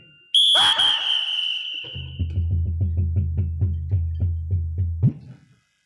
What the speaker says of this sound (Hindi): इसे साले सीटी कहते हैं।